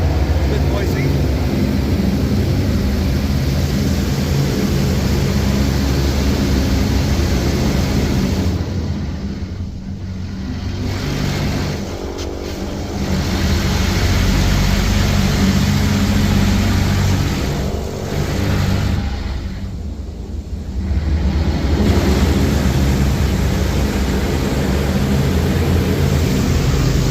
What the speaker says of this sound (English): So the reason why it's so loud is because it's got turbo nozzles.